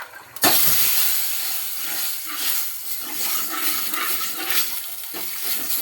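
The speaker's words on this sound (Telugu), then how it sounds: "పోపు అంతా ఇందులోకి యాడ్ చేసుకున్నాను" Hot tempering of spices and turmeric poured into raw tamarind soup, pacha pulusu, bursts into a loud sudden sizzle, then settles into a steady hissing crackle that lasts several seconds with no talking.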